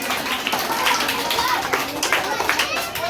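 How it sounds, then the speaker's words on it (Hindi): A school audience of children at an Independence Day celebration at a coaching centre claps in welcome for a Class 8 student speaker. The steady, dense clapping is close and lively, with children's voices mixed in. "जोरदार तालियों से स्वागत करें"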